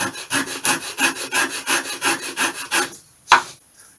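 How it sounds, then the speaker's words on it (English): Sandpaper rubs back and forth across the leading edge of a balsa wood rib in about sixteen quick, even close strokes, then stops with one sharp tap. "So let me just sand the leading edge a bit."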